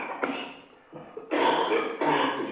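Several harsh, broadband coughs from a person on a group call, a short one early followed by two louder, longer bursts close to the microphone.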